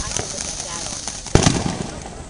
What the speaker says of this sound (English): You guys probably think it's thunder, but it's really fireworks going off everywhere.